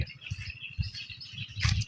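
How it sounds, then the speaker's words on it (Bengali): Birds chirp faintly along a forest path, soft repeated calls over low rustling thuds of footsteps on the trail, quiet and fairly distant, with no talking. "পাখির কিচিরমিচির বেড়ে গেছে"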